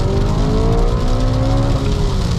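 A 668 hp supercharged BMW M3 driven on a wet road, its engine droning loud and steady from inside the cabin as revs rise after a downshift to second, with constant road noise underneath and no speech.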